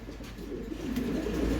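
Pigeons coo softly in low, throaty murmurs at a market stall where pigeon pairs are sold, steady and close amid a constant background rumble, with no one talking.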